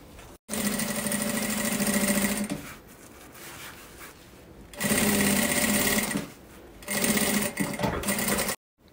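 A sewing machine stitching a thermal bag, its motor running in steady bursts of rapid mechanical whirring that start and stop several times, loud and close.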